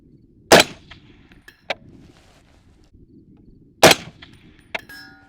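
An MR762 rifle fitted with a Fletcher Rifle Works Texas Flood suppressor and its vented end cap fires two loud, sharp shots a few seconds apart, each followed by metallic clinks, over faint night insect chirping.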